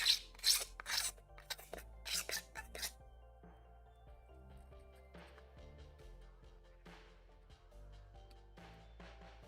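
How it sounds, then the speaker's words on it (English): Quick rasping scrapes come in short bursts at first, followed by scattered lighter scratches and faint clinks against a quiet background. "Quick scraping."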